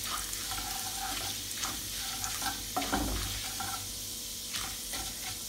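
Urad dal and dried red chillies stirred and frying in a pan for masala dosa tempering, with a steady close sizzle and scraping stir strokes throughout, no talking.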